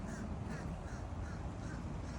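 A wild crow caws from close by outdoors in Florida, its harsh calls sitting in a dense, noisy background with no speech.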